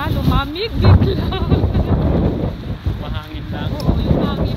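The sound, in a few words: wind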